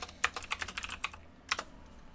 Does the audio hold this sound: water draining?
no